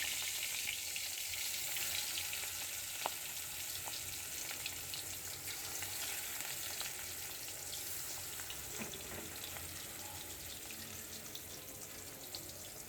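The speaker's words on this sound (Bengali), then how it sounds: "মাছগুলো একটু আমি প্রথমে হালকা ভেজে নিব।" Turmeric and chili coated rui fish fry lightly in a pan, a soft continuous sizzle with occasional faint crackles, quiet and alone.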